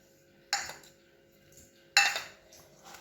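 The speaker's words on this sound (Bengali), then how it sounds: "ভালো করে মাখিয়ে নেবো এটা।" Fried spices being mixed into sun-softened mango pieces for a spicy pickle make two sharp clinks of a utensil against a bowl, each followed by a short scrape. Both are close and stand out against quiet.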